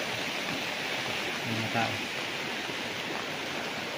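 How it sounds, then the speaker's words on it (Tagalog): A river flowing beside a farm lot in Nagcarlan, Laguna makes a steady, even rush of water noise throughout, with a brief spoken word heard over it. "Yan, ito yung ilog mga kapraps."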